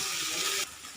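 Shredded chicken fries in a pan, giving a steady close hiss and sizzle that drops off sharply partway through before a faint rise at the end.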